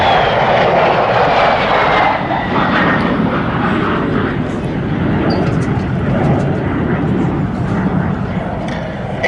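A 1940s two-seat trainer aircraft flies over the Duxford air show with a continuous loud engine drone, steady and slightly shifting as it passes, while crowd noise and wind fill the background.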